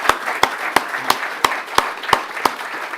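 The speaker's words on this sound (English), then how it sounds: "Could you give them a round of applause," Steady, evenly spaced hand claps sound at a conference, eight crisp strikes about a third of a second apart over a faint background murmur.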